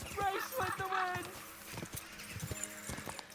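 A horse gallops in Kingdom Come: Deliverance 2, hooves thudding in quick uneven beats beneath a voice talking, with faint tonal game sounds mixed in.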